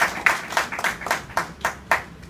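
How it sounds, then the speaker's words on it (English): A small crowd applauds at a women's cricket tournament event, a sparse run of distinct hand claps in an uneven rhythm, close and fairly loud, with no voices over it. "A rousing round of applause."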